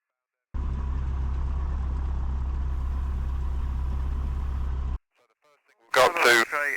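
Rollason Condor D.62B light aircraft engine running steadily at close range, a loud constant drone that cuts off abruptly, followed by a brief burst of speech.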